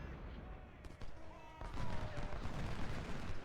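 Massed musket gunfire from a flank attack in the Civil War strategy game Ultimate General: Civil War at Cold Harbor, a dense crackling fusillade that swells into sustained, rumbling volleys, with a voice talking over it.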